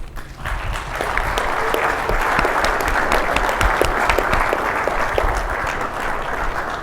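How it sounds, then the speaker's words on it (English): A crowd claps loudly and steadily for several seconds at a startup competition awards ceremony, dense applause filling the room without letup. "let's give a big round of applause for all the participants"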